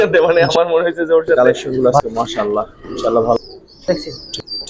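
Pigeons of silver pankhi and military breeds coo and chirp nearby in a series of short, loud calls, with someone talking over them throughout.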